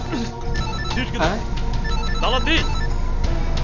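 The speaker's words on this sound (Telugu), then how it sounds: "అరే ఏంటి ఇక్కడ ఫోన్ రింగ్ అవుతున్న సౌండ్?" A phone rings inside a jeep as a repeating electronic ringtone trills in short bursts over a busy action-movie soundtrack.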